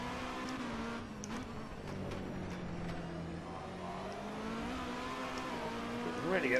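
A V8 Supercar engine in the rFactor 2 sim racing game gives a steady, fairly quiet droning note whose pitch rises and falls as the car is driven, then climbs sharply at the very end. No one speaks.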